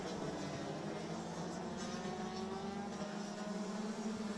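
DD2 racing karts pass on a circuit with a constant high engine drone. The engines hold a steady pitch, blurred by distance and mixed together, at a faint, even level with no distinct pass-by peak.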